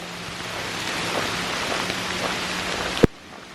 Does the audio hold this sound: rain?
yes